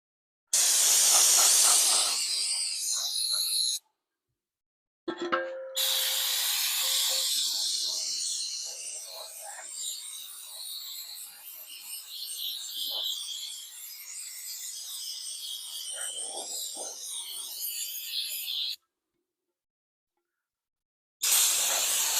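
Aerosol starting fluid sprays in a steady, loud hiss onto a Ford C4 automatic transmission valve body fouled with clutch material, one long continuous burst with short bursts at the start and end, no voices.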